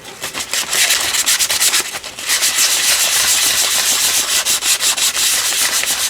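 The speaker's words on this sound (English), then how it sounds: "Let's see, sand again." Sandpaper rubbed over a sheet of paper to distress and grunge it, a steady close scratchy rasp in repeated strokes, briefly easing near the two-second mark before resuming, with no talking.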